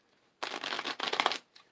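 A deck of tarot cards is shuffled once, a crisp riffling burst about a second long, close and clear against a quiet room.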